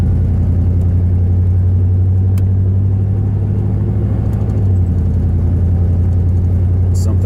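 A pickup truck engine idling in drive at roughly 500 to 700 RPM, a loud, steady low rumble with an even pulsing throb, close to the microphone and continuous throughout.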